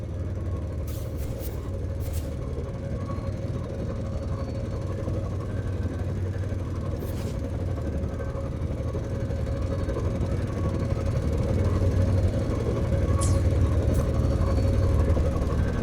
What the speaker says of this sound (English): Whoa, look! The train caught up to us.